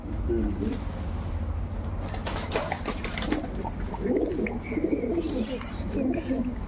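Lahori pigeons cooing close by in a loft, soft rolling coos repeating in bursts with some wing flutter and chirps, a voice talking intermittently over them.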